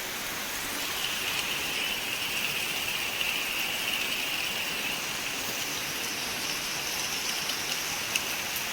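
Heavy rain falls in a steady, even hiss, a continuous wash of drops with faint scattered patters, moderately loud and unbroken for several seconds with no voices.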